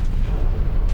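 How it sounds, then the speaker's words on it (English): A low, heavy blast rumbles through a Space Engineers survival battle as a ship blows up, a dense wash of deep booming that fills the whole second with no break and no voices. "What was that explosion?"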